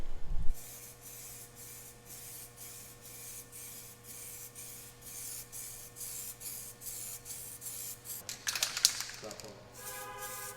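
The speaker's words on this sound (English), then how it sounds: "Now we are ready to go and coat it with the black." Black spray-on body armour coating hissing from a spray gun onto a Jeep TJ, a steady broadband spray with pulsing bursts, close and continuous, ending in a few sharper hisses and clatters.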